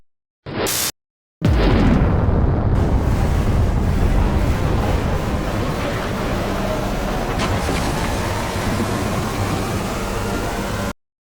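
A V2-fuelled rocket engine on a late-1940s test of a retrieved disc fires with a sudden burst, then settles into a loud, continuous roaring rush that holds for about nine seconds before cutting off abruptly.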